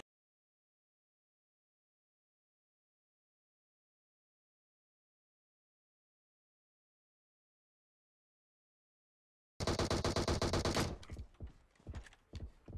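Rapid bursts of gunfire from a crossbow-challenge shooter video game, a dense, loud fusillade that bursts in abruptly after a long silence and then breaks into scattered, irregular shots.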